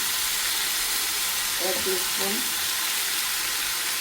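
Tomatoes and green chillies frying in hot oil for a Malayalam stuffed mackerel (ayala nirachathu) masala, giving a steady broadband sizzle and hiss throughout, with a brief low voice murmur in the middle.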